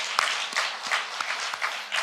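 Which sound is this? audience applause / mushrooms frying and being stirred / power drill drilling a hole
audience applause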